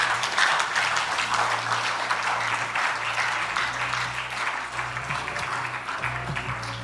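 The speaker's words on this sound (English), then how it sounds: "Let's give our contestants a clap." An audience claps for contestants at the end of a round at a national banking and ethics quiz grand finale, a moderate, continuous patter of applause with a low hum running beneath.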